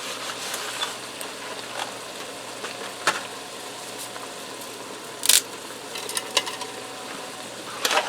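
Spaghetti and chili sizzle in a Ninja Speedi set to sauté, a steady close hiss broken by a few sharper crackles and pops, with no talking.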